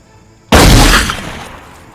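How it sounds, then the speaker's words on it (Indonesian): A single loud, sharp pistol shot bursts out after a brief quiet, then decays into a fading echo. "Sementara pengemudi itu mendorongkan pistol dan menembak Flynn sampai wafat."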